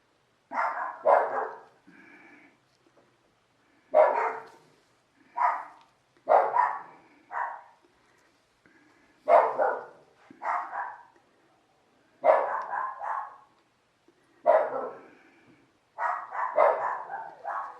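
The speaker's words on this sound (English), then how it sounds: "I'm just going to see what these dogs are barking at." Dogs bark in repeated bursts of two or three sharp barks, separated by short pauses, fairly close and loud, with no talking over them.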